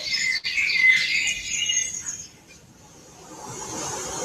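Birdsong soundscape of chirps and tweets, loudest in the first two seconds, then fading to a quieter, faint background of calls and hiss.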